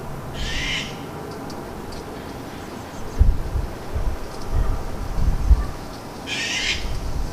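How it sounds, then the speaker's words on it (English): A harsh, raspy bird scream sounds twice, once at the start and again near the end, over windy rumble with no voices. "the recording of the unknown bird screaming again"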